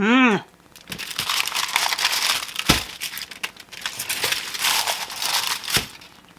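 Aluminum foil crinkles and crushes close up while Christmas candy is handled, a steady busy rustle with occasional sharper crackles, preceded by a brief tonal sweep at the start.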